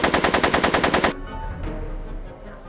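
Rapid automatic gunfire in the Back to the Future adventure game, a loud, evenly spaced burst of about a dozen shots lasting a second, then cut off into a low rumbling ambience with faint scattered noises.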